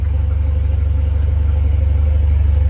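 A Volvo 740 Turbo engine revs toward boost at nearly 5,000 RPM, giving a loud, steady, close engine drone with a throbbing low pulse throughout and no voice.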